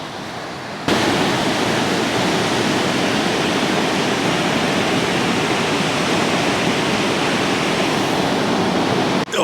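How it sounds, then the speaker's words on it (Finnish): Rapids on the Teno river rush loudly and without a break, a dense, close roar of whitewater that starts abruptly and holds steady throughout. "tämmönen koski löytyi täältä"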